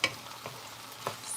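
Food sautéing in hot oil on a turned-up burner gives a continuous soft sizzle, punctuated by a few brief scrapes or taps of a utensil, close and fairly quiet.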